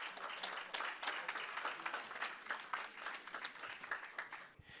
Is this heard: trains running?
no